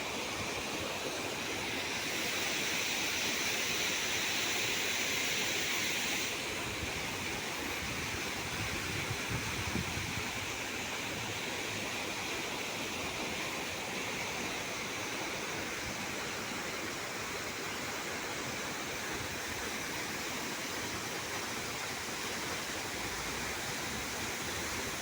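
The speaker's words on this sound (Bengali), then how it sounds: "আর নিচে ঝর্ণাটা কেমন লাগতেছে" A fountain splashes beneath an elevated metro line, producing a steady, dense roar of falling water that holds evenly for the whole stretch, slightly brighter near the start, with no voices.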